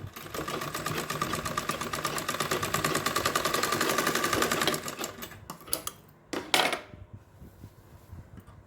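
A sewing machine stitches a kurta in a fast, even run of close mechanical clatter, then stops, followed by a few scattered clicks and handling noises.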